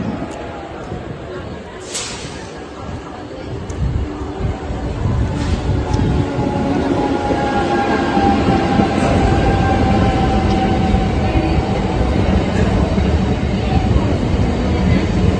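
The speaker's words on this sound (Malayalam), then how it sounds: "ഈ ട്രെയിൻ പോകുന്നു" A train rumbles through the station, its low roar and clatter building steadily and staying loud, with a brief metallic screech early on and a voice faintly audible.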